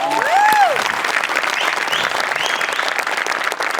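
An audience at a Marathi comedy show bursts into loud, sustained applause, dense clapping that continues evenly throughout, with a brief whistle near the start.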